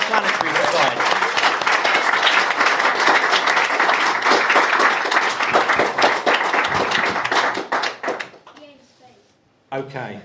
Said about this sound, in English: can we have a round of applause, please, for the British Interplanetary Society?